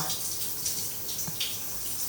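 A hotel shower runs at full pressure, a steady close hiss of spraying water with faint splashes and no voices.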